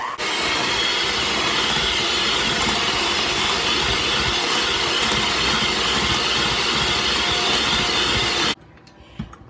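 Electric mixer whipping Dalgona coffee ingredients on high speed, a loud, steady whirring drone close by that runs unbroken for several seconds, then cuts off abruptly near the end, leaving quiet.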